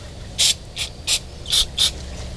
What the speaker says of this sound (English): I'm using just a basic silicone spray to hit all of the